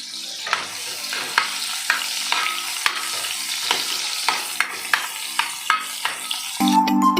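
Ingredients for a Goan kabuli chana dish dry-roasting in a hot pan, a steady close sizzle punctuated by regular scraping stirs, with a louder burst of frying near the end.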